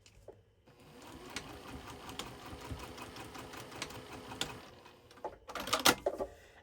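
A sewing machine stitches a fabric basket lining in several quick bursts of rapid mechanical whirring, close and clear, with short pauses and a louder clattering run near the end.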